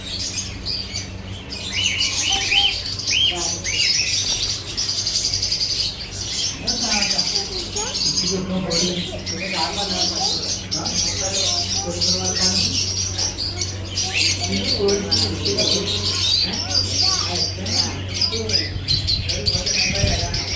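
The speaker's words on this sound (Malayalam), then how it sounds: "നല്ല വെറൈറ്റി ആയിട്ടുള്ള കിളികളാണ് ഉള്ളത്" Many birds chirp and squawk in a lively mix nearby while people talk throughout, with a steady low hum underneath.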